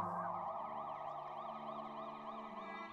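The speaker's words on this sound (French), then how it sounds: "le vrombissement des sirènes commençait à s'estomper au loin" Emergency sirens wail in a steady rising and falling pattern, moderately distant and fairly faint, with no voices.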